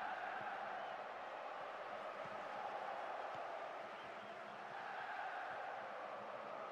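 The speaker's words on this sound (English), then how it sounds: "Crowd thoroughly enjoying the game as it unfolds." A stadium crowd in a football video game keeps up a steady, distant roar throughout, faint and even, with no clear peaks of cheering or applause.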